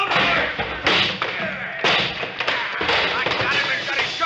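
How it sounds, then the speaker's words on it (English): Heavy crashes and thuds from a shop counter dropped on a man in a 1942 radio western, a loud run of repeated bangs and clatter spread over several seconds. "I'll drop the whole counter!"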